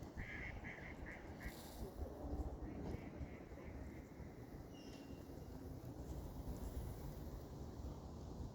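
Ducks by a river calling and splashing down onto the water, a few quacks at a distance over steady wind noise and background murmur.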